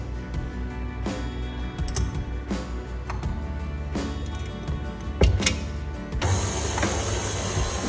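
A stand mixer runs at its lowest speed kneading focaccia dough, giving a low mechanical hum with periodic knocks and clicks, joined by a brighter hiss near the end.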